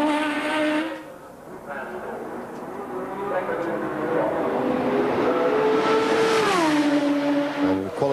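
A 1450bhp BMW turbo Formula 1 car runs a qualifying lap, its engine note whining and rising in pitch, then dropping with gear changes, heard at moderate distance under race commentary.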